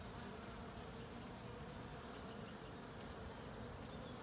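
Honeybees hum at the entrance of a backyard hive fitted with a robber screen, a dense, steady drone of many insects filling the whole stretch without pause or talk.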